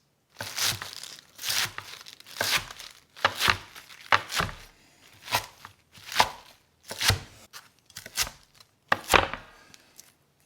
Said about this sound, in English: And then we're going to chop the spinach into bite-sized pieces.